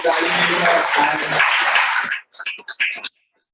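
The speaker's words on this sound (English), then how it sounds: "please give a huge round of applause" Steady applause from a group at a Toastmasters meeting in Bangalore fills most of the clip, thinning into a few scattered claps before stopping.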